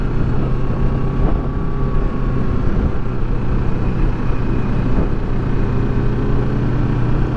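A 2018 Kawasaki Versys 650 ABS Tourer motorcycle rides over wrinkled, rough asphalt, a steady engine drone with a low hum and continuous wind rush against the microphone, loud and unbroken throughout.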